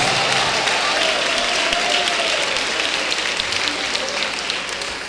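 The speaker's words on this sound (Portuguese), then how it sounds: "Desocupem as suas mãos, batam palmas e glorifiquem a Jesus." A church congregation clapping together, a sustained dense wash of many hands applauding in a large room, with a voice carrying over it.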